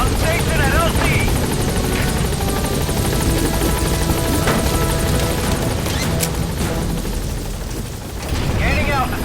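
The B-Quad support helicopter in Metal Gear Solid V hovers loud and close at a landing zone with steady rotor chop, over game effects, impacts and radio voices.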